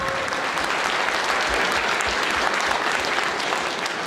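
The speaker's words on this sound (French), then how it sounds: "Vous pouvez l'applaudir." Audience applause in a French-language meeting room, a steady dense wash of many hands clapping at moderate distance, continuous throughout with no voices on top.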